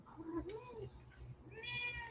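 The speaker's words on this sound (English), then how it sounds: "I can't concentrate if you're meowing at me" A cat named Joey meows in a rising, drawn-out call, then a second meow, indoors over steady low background noise and faint voices.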